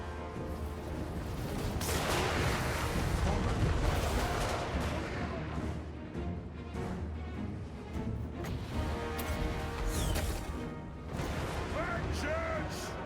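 Rumbling explosions from a bombing run in a strategy video game, forming a dense, continuous roar of blasts and crashes with battle noise and voiced unit lines over it.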